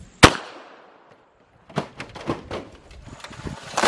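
A single sharp gunshot from a Rock Island 1911 A2 TAC Ultra double-stack .45 ACP pistol at an outdoor target range, loud and close with a decaying tail, followed by scattered thuds and rustling.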